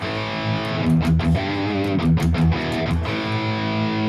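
High-gain electric guitar through a Marshall lead amp model on a Valeton GP200 multi-effects unit, with thick distorted chords ringing out in loud rhythmic stabs, alone with no talking.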